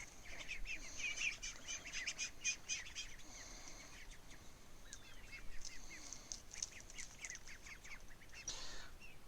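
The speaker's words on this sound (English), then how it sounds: "Well, the duckies seem to be doing okay." Ducks on a homestead quack and call in a busy, overlapping chorus, moderately near and fairly faint, with scattered chirps and honks over a soft outdoor background.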